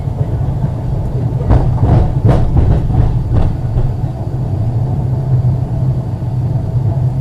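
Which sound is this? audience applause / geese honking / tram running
tram running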